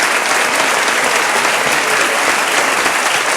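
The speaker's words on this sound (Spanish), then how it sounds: "Le damos un aplauso, ¿no? Muy grande." Sustained audience applause at a Spanish talk event honoring filmmaker Alejandro Amenábar, a dense, steady wash of many hands clapping at full volume throughout with no pauses.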